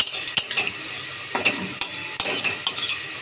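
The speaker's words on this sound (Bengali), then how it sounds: "তেলটা গরম হয়ে গেছে, তেলের মধ্যে ফোড়ন দিয়ে দেবো সাদা জিরে।" White cumin seeds sizzle in hot oil with a steady hiss, punctuated by sharp metallic clinks and scrapes of a spatula stirring against the pan, close and fairly loud.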